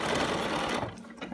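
A sewing machine stitches fabric for a custom fabric container in a short, loud, close burst of rapid whirring that stops abruptly near the end.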